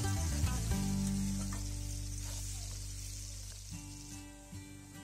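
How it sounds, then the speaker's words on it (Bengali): Potatoes frying in oil seasoned with salt and turmeric give a steady, close sizzle that holds continuously without talk, with faint stirring scrapes near the end. "আমার আলুগুলো পুরো লাল লাল করে ভাজা হয়ে গেছে"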